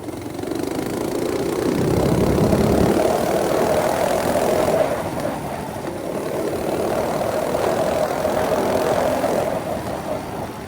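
A 6HP Tecumseh engine on a minibike runs steadily in a close, continuous putter that swells slightly as it works and then settles, with no voices.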